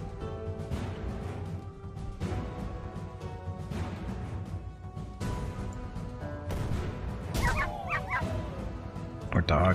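Hellhounds in the fantasy strategy game Master of Magic giving repeated growling barks and yips in bursts over battle rumble, with a voice talking over part of it.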